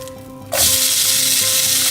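An onion tomato uttapam hits a hot pan after flipping and bursts into a loud, steady sizzle that starts abruptly and holds, close and strong.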